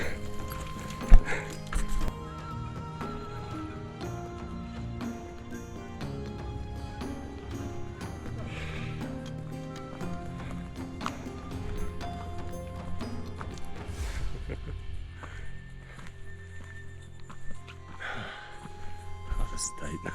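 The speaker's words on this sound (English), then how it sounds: "These donkeys are fast." Donkeys' hooves clip-clop steadily along a narrow Andes hiking trail near Rupac, Peru, a loose walking rhythm running under outdoor ambience and people talking.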